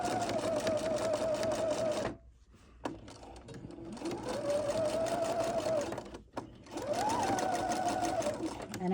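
Sewing machine stitching a line on a tote bag with gussets and lining, a steady close motor whir with a rising and falling pitch, in three runs split by brief pauses.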